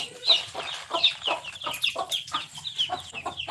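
Chickens and chicks clucking close by, a steady run of short, sharp clucks and peeps repeating through the whole stretch with no talk.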